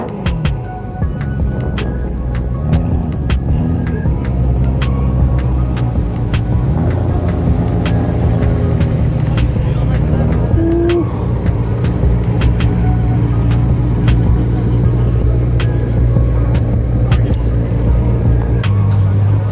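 Idling car engines warming up at a night car meet rumble continuously at close range, a deep steady drone with occasional rises in pitch and scattered clicks.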